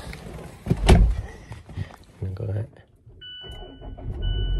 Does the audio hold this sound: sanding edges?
no